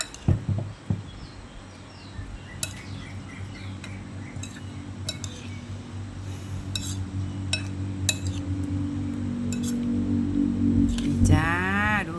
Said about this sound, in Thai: ใส่หมูยอแล้วก็กุ้งลงไปเลย คนให้เข้ากันนะคะ